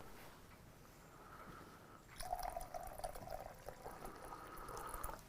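Hot water poured into a container during a science demonstration on temperature, a faint trickling stream that turns into a clearer, louder splashing pour partway through, with no talking.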